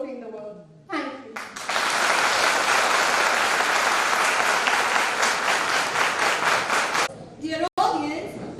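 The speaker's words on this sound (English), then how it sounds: "Dear audience, please give our performers a huge round of applause." An audience at an inter-school cultural competition bursts into loud, sustained applause for several seconds, with speech heard just before and after as the clapping stops.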